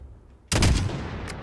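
Gunfire in the video game Call of Duty: Modern Warfare breaks out suddenly as a loud, dense burst of rapid shots over low rumbling background noise.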